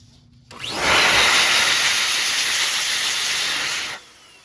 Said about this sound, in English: Hit the objects with some compressed air to blow off any debris